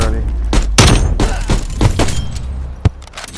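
Gunfire in a Black Widow video game, several loud close bursts and thumping impacts in quick succession, followed by a single sharp shot, with a voice talking between them.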